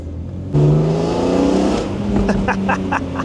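A BMW E46 M3 engine revving loud and close, a deep rising growl that swells and holds, with rhythmic pulsing bursts toward the end.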